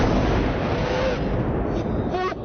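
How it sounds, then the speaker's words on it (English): A loud, sustained blast of broadband roar fills the whole clip, dense and forceful at close range, easing slightly near the end where faint voices emerge. "Really, really loud explosion, right?"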